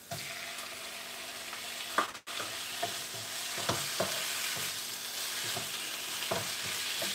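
King prawns sizzling and stir-fried in a hot pan with ginger and chilli noodles, a steady loud frying hiss with scattered clicks and stirring knocks throughout, close up and without talk.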